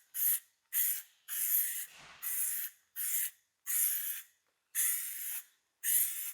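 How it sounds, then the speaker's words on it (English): Plasti-dip aerosol sprayed on the chrome trim of a twin-turbo BMW in eight short close hissing bursts with brief gaps between them. "I wanna just fix this with a little bit more Plasti-dip"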